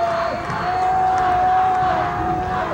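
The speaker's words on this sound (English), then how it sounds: "You can hear the crowd." A crowd at a 1987 high school football game between Troy and Troy Athens keeps up a steady, distant roar of cheering throughout.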